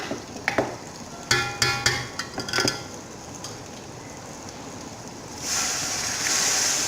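Water poured into hot frying masala for nalli nihari: a few close stirring clicks and scrapes, then a loud, steady sizzling hiss that bursts up and holds to the end.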